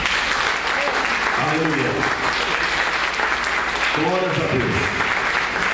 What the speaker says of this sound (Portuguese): Eu gostaria que vocês aplaudissem Jesus na vida do pastor Dineu.